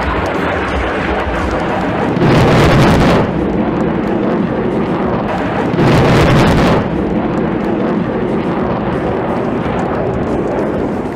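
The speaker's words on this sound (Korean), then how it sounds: "진입하고 있는 FA-50 전투기 편대가 MK-82 항공탄으로 적 기계 화부대를 타격하겠습니다." MK-82 aerial bombs dropped by FA-50 fighter jets explode at a live-fire demonstration, with two deep, booming blasts a few seconds apart over a constant roar of wind and distant rumble.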